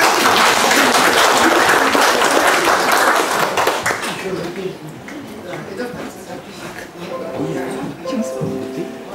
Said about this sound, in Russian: Похлопаем Виктору.